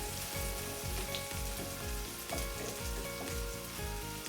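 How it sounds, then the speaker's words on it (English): Steady close sizzle and crackle of potatoes for a steak hash frying in hot oil in a pan, a constant soft hiss with faint popping. "Put some hot oil on them, and that helps them cook up and get crispy."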